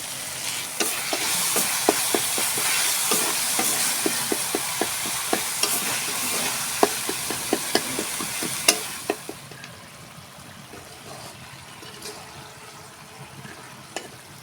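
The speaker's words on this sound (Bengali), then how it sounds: "মাছগুলোকে এখন আমি একটু কষিয়ে নিচ্ছি" Oil sizzles steadily in a pan as fish is stir-fried in spices, while a utensil scrapes and clicks in a quick stirring rhythm, then the sizzle quiets toward the end.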